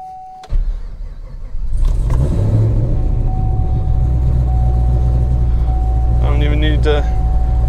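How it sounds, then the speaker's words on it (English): A 2012 Chevrolet Camaro ZL1 with an aftermarket exhaust starts up and settles into a loud, deep, rumbling idle heard from close by, with a short rise in revs partway through. "I don't think I need to say that it has an aftermarket exhaust, but it definitely does."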